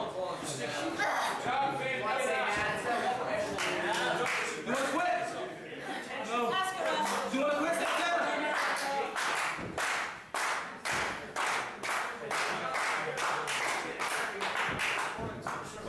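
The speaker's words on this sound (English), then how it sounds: "You can hear the crowd rally behind Santana." A wrestling crowd at a women's extreme wrestling match claps in steady, rhythmic unison and cheers loudly throughout, with a commentator talking over the noise.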